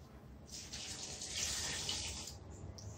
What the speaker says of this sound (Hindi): 1 कप पानी डालकर इसको मैं मिक्स करती हूँ।